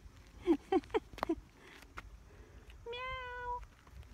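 A cat gives several short meows in quick succession, then one longer drawn-out meow, faint and close, with light background noise.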